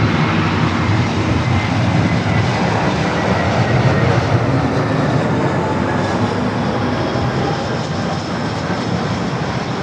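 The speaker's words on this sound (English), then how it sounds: "It's the JetBlue A321 coming up from JFK." A JetBlue Airbus A321 jet flies past at LAX, its loud broadband engine roar steady and close throughout with no voices.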